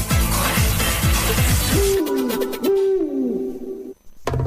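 An owl hoots in a liquor advertisement, a few clear, mellow hoots sounding close and prominent over a rhythmic musical background that drops away partway through.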